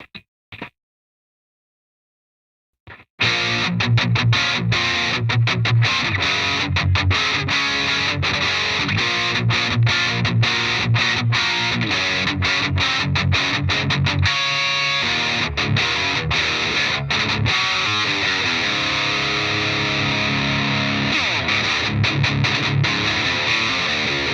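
Electric guitar played through a Jekyll & Hyde overdrive/distortion pedal with the distortion set almost fully up, thick sustained distorted chords and riffs ringing loudly after a brief quiet start.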